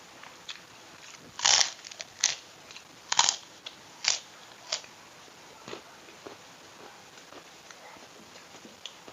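Crunchy kerupuk crackers are eaten with Balinese nasi jinggo, heard close up as a series of sharp crunching bites that grow softer and more spaced out, followed by quieter chewing.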